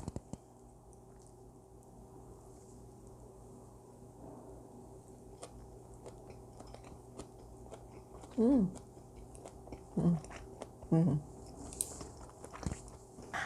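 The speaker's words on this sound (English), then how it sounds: "And then let's try the kale wrap." Several soft crunchy bites and chewing of a Korean kale leaf wrap with rice and beef ssamjang, three distinct close bites in the second half over a quiet background hum.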